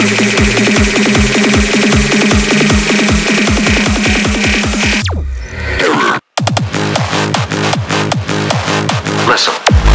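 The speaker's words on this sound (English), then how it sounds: "This is the sound of a classic drum machine." A classic drum machine plays a steady, loud electronic beat with regular kick hits. The pattern breaks off briefly near the middle with a sweep and a short gap, then resumes with a busier rhythm.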